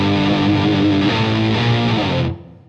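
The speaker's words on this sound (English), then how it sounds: "And then I add in a little bit of the Boss distortion pedal to make it really." Electric guitar played through a Boss distortion pedal, a thick sustained distorted chord ringing loudly and steadily for over two seconds before cutting off abruptly.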